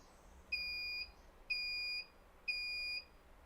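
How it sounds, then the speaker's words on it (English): Three identical high-pitched electronic beeps from an exercise machine keypad, each about half a second long and evenly spaced, ringing out clearly over a quiet background. "Now that one's beeping, this one's not beeping at all"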